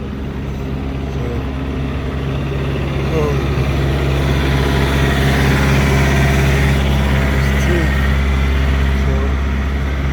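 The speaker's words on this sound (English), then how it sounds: "I'm about to gas this generator up, man, and shut it down for the night" A generator at a truck yard drones steadily and loudly throughout, a constant low engine hum with a slight swell midway and no breaks.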